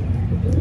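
A pigeon coos softly and steadily in a rooftop loft setting, a low continuous murmur lasting under a second with no voices.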